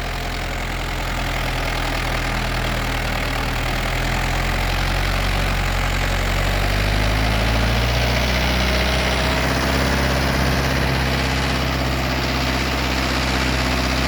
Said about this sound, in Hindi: बिना किसी कंट्रोलर के ट्रैक्टर चल रहा है